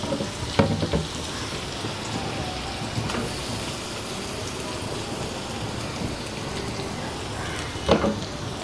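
Ginger and garlic paste with onion paste sizzling and frying steadily in a pan for Bangladeshi prawn malaikari, with a few louder stirring scrapes near the start and end.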